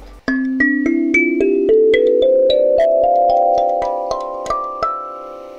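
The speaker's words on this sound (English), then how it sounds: "This is the Donna DKL17. It sounds like this." A Donna DKL17 kalimba plays about a dozen bright plucked metal-tine notes, climbing step by step in a steady, close ascending run with ringing overtones and no voices.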